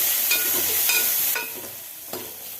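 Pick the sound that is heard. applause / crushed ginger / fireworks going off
crushed ginger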